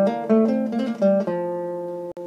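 A short riff from Tárrega's Malagueña is picked on a classical guitar, a quick run of plucked notes with a mordent that settles on a ringing final note, close and clear with no talking.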